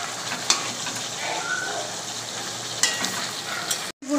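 Chicken pieces with spices being sautéed in a pan for a Bengali chicken kosha, giving a steady close sizzle with occasional scraping stirs and a short break near the end.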